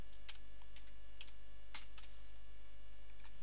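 Scattered keystrokes on a computer keyboard, a few separate clicks and short runs of taps, close and clear over a steady electrical hum.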